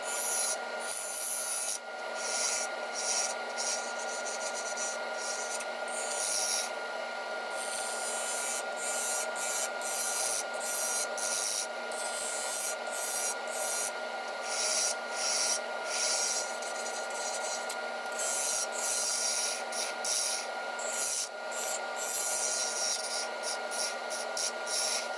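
A maple burl spinning on a lathe as a woodturning tool makes deliberate passes, a continuous close raspy scraping with steady rhythmic cutting strokes over a constant motor hum.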